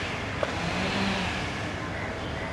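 A car passes at a street near a railway station in Sri Lanka, its steady engine and road noise filling the scene at moderate distance, with a brief murmur of voices in the background.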